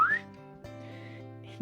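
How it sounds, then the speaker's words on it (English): A person gives a single short rising whistle to call children in from a backyard, followed by a steady low tonal hum with no talking. "And I whistle, because they're used to my whistle."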